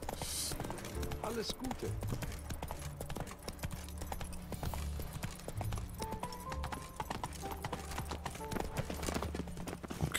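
Steady clip-clop of a horse's hooves while riding in The Witcher 3: Wild Hunt, an even trotting rhythm close by and continuous throughout, with someone talking over it and brief in-game voices.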